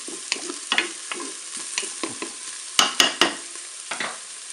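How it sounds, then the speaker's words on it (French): Onions browning in a Cookeo multicooker, with soft sizzling under scattered scrapes and stirring clicks, a few louder utensil knocks midway. "mes oignons commencent à dorer"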